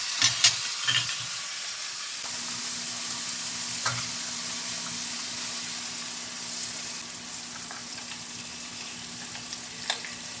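Coconut milk with chili simmering in a pan for binagoongang bangus, a steady soft sizzle and bubbling hiss with a few sharp clinks of stirring, close and unbroken by speech.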